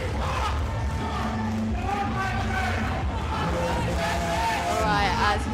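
Crowd at a powerlifting meet cheers and shouts encouragement for a lifter approaching a 242.5 kg bar, a steady loud roar of many voices with some nearby speech mixed in.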